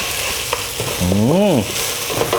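Thai curry paste stir-fried in a pan for a northern-style beef curry: a steady, close sizzle and scrape, with a brief rising-and-falling tonal squeal near the middle, no talking.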